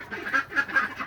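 A duck quacks repeatedly while being fed, several nasal calls in a steady rhythm, close and fairly clear with no talk over them.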